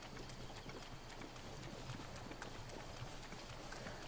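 Horse hooves clip-clop at a steady running pace in The Legend of Zelda: Breath of the Wild, a dense continuous patter of hoofbeats with faint rustling over the whole stretch.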